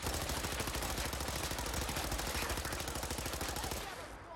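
Rapid automatic gunfire from a gun in the video game Fallout 4, set in the Commonwealth, a dense continuous burst of shots that cuts off near the end.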